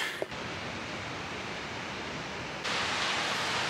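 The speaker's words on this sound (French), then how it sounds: "On va aller voir cette petite cascade, on dérive un peu de notre chemin." A small waterfall beside a hiking trail in the Norwegian mountains pours as a steady, full hiss of rushing water that grows louder near the end.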